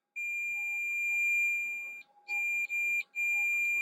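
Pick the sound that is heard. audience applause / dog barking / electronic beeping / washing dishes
electronic beeping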